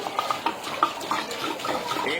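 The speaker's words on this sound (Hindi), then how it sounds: "फुल भर के इसके अंदर पानी डालना है हमने।" Water splashing into a cooking pot of beef nalli paya, a steady close pour with small bubbling and sloshing, mixed with faint clinks.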